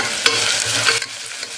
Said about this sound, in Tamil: இஞ்சி பூண்டு பேஸ்ட்டு பச்சை வாசனை போகிற அளவுக்கு வதக்கணும்.